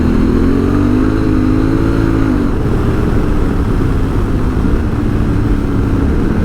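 A 2022 Honda Africa Twin motorcycle on the road, its engine a loud steady drone mixed with wind rush, pitch rising slightly and then dropping as it shifts, with no talk.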